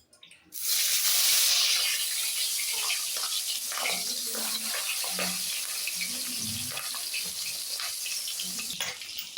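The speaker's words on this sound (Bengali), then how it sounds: "এবার আমি গরম তেলে দেব।" Catla fish roe rubbed with salt and turmeric hits hot oil, setting off a loud, continuous hissing sizzle that starts abruptly and then holds steady with faint crackles, with no voices.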